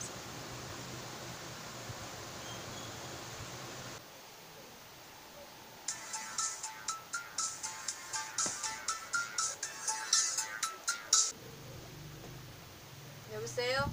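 After a muffled hum, a telephone's electronic ring trills in a quick repeating pattern for several seconds, then stops; background noise continues.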